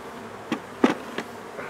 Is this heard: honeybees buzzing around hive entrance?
yes